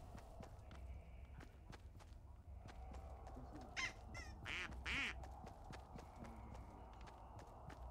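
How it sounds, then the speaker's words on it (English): In the video game Fortnite, a duck quacks a few times at a distance amid game ambience and regular clip-clopping footsteps. "Ooh, a duck. I heard a duck."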